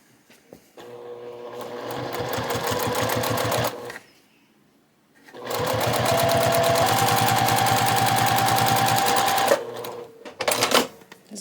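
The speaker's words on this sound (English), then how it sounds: "I'm sewing with a Juki TL 2020 PE." A silver Juki TL 2020 PE Platinum Edition sewing machine stitches plastic material in two steady, loud bursts of rapid needle rhythm, separated by a brief pause, with a few clicks at the end.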